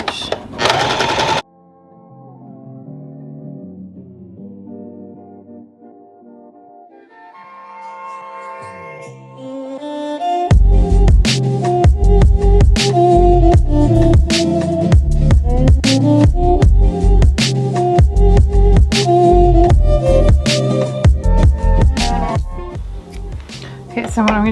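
A sewing machine runs a length 2 straight stitch in a rapid, steady mechanical chatter that starts after a quiet stretch and continues loud and close to the end, with a person talking early on.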